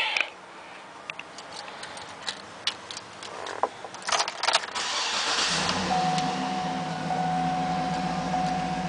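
A 2007 GMC Yukon Denali AWD starts up with a few clicks and the starter's crank, then its engine catches and settles into a steady idle, close and unaccompanied by voices.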